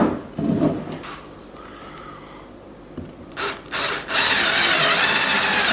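Power drill boring holes through a camera arm bracket for a body-mounted snorricam rig, with short bursts early on, then a loud, close, sustained whine of the bit cutting through in the last two seconds.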